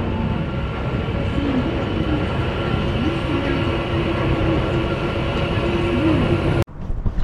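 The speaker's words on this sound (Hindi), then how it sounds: "तो मेट्रो आएगी यार," An Istanbul metro train arriving, a loud steady rumble and rail roar filling the station with a faint squeal, cutting off abruptly near the end.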